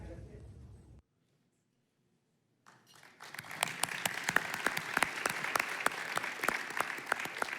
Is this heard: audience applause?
yes